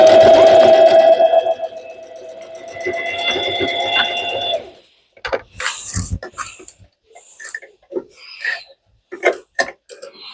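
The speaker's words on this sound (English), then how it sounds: "Then you use normal stitch and complete the sewing process." A sewing machine running a steady stitch along a baby changing pad cover, a continuous whirring hum for several seconds that stops, followed by scattered clicks and handling noises.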